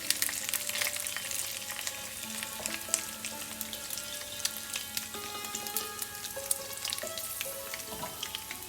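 Urad dal, chana dal and dry red chillies crackle and sizzle in hot oil, a dense, busy frying hiss with fine popping running steadily throughout, close and fairly loud, with no voices.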